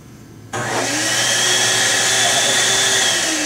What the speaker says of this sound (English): we have the automatic hand dryer, energy efficient